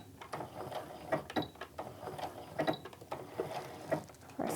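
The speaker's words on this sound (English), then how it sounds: "I'm going to sew the heck out of this baby." A sewing machine runs in short bursts, reinforcing stitches through layered canvas and cork on a wristlet, a steady mechanical whir with rhythmic pauses and restarts, close and moderately loud with no talk.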